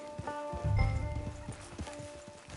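Horse hooves clip-clop at a walk in the video game Red Dead Online, a steady run of soft, evenly spaced thuds over a faint sustained musical drone, fairly quiet and close.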